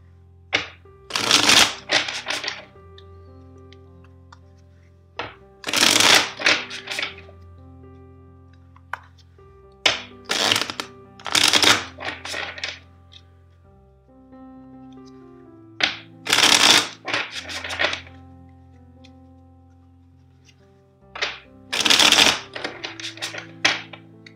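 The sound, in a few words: shuffling a deck of tarot cards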